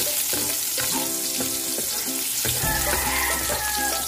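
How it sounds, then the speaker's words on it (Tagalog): Onions fry in a pan for pancit chami, hissing steadily at close range, with a few clinks and a tonal hum underneath. "Lagay na po natin yung sibuyas. Ganda ng kulay ng sibuyas."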